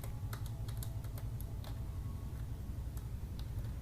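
Code is typed on a computer keyboard, with quick, faint irregular key clicks over a low background hum for a few seconds.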